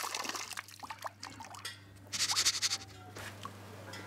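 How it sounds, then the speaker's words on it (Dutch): Pepper seeds are rinsed in a sieve under running water, giving soft wet trickling with a louder splashing burst midway and scattered drips and scrapes, close by with no talking. "Spoel de vruchtbare zaden schoon in een zeef onder stromend water."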